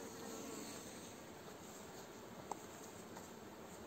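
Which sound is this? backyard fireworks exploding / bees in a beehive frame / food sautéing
bees in a beehive frame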